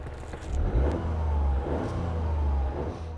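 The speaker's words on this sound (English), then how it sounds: "they take the best sound waves from the engine and then amplify them, and that's what you hear through the speakers" Car engine revving with its sound amplified through the cabin speakers, a low throbbing rumble that swells twice, moderately loud and close, with no talk.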